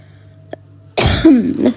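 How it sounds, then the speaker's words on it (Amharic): A woman with a cold coughs: a faint small throat sound first, then a loud, close, harsh cough burst that trails into a rasping breath. "አንዴ ማሳል ከጀመረኝ የማይተውኝና ይቅርታ እየሳልኩባችሁ ነው"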